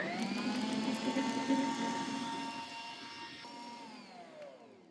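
A stand mixer whirs steadily, its paddles and scrapers beating creamy cake icing in a bowl. The motor drone is loud at first, then slowly eases and softens toward the end, with no voices.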